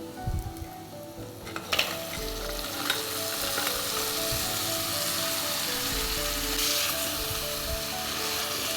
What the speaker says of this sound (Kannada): ಈ ಟೈಮಲ್ಲಿ ನಾನು ಕ್ರ್ಯಾಬ್ ಏನಿದೆ ಅದನ್ನು ಹಾಕ್ಕೊಳ್ತಾ ಇದ್ದೇನೆ